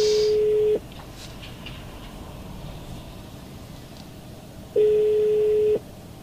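A phone ringback tone heard through a car's Blue&Me hands-free system sounds twice, each a steady one-second beep separated by a long quiet gap with faint background hiss.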